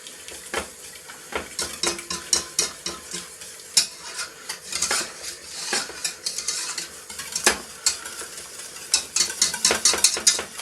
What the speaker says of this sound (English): At the start it's going to absorb it pretty quick. Keep with the whisking.